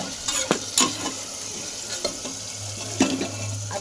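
Potatoes with salt are sautéed in a pan, with sharp scrapes and clinks of a spatula stirring them over a soft sizzle, close and alone.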